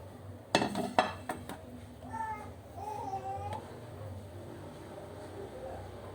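Fried chicken with oyster sauce being placed onto a plate in a home kitchen, a couple of clinks and clatters of dishware early on, then quiet handling while people talk softly nearby.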